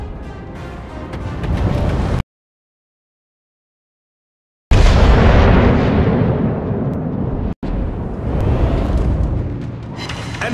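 Ship guns and shell explosions in World of Warships with the cruiser Colombo, heavy booming blasts and rumbling that fill the clip, cut by a stretch of silence in the middle and a brief dropout later.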